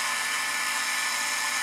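Vintage 1950s Norelco electric shaver running, a loud steady high-pitched whine and buzz with an even drone and no change in pitch across the short span.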